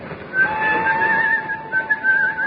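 A man's steady, tuneful whistle carries a wavering melody for a couple of seconds, clear and fairly close, with no talking.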